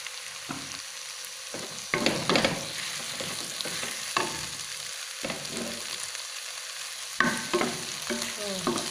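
Green onions stir-fried with ground beef and spicy papaya flowers in a pan, a steady sizzle punctuated by several clattering spatula strokes, close and clear with no voices.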